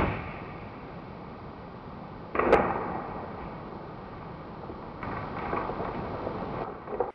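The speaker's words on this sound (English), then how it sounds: "you can see and definitely hear that my arrow hit a sapling that was against the deer's body" A bowhunter's arrow strikes a sapling pressed against a whitetail deer in Canadian woods, giving one sharp, brief crack in the middle over steady wind noise, with no talking.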